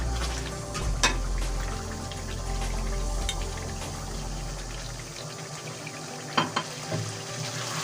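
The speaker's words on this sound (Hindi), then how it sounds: "थोड़ी देर चिकन के साथ टमाटर को भूनेंगे" Chicken and tomatoes frying together in a karahi, a steady broad sizzle with occasional stirring scrapes and clinks, loud and close until the frying noise drops away near the end.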